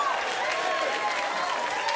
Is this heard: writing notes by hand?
no